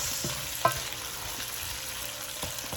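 Pancetta and softened vegetables for a bolognese frying in a pan, with a gentle, constant sizzle and occasional light clicks of a stirring utensil.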